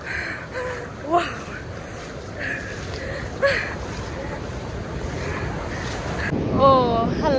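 Surf and wind at the coast roll in a steady wash of ocean waves with gusty wind buffeting the microphone, while excited voices cry out and chatter over the top.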